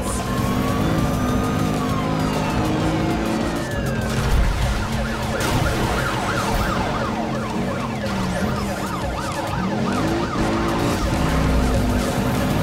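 Police car sirens wail in the Need for Speed Rivals racing game, several overlapping warbling siren tones cycling continuously over the steady roar of car engines, loud and close throughout.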